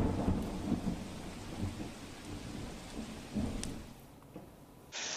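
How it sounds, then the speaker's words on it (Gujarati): Heavy monsoon rain falls in Valsad district during river flooding, a thick continuous roar with rolling thunder, loud at first and easing slightly toward the end. "વલસાડ જિલ્લામાં ગટરોજથી જ ભારે વરસાદ વરસી રહ્યો છે"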